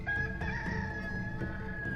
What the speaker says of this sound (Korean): 닭이 곧 2번째 울더라.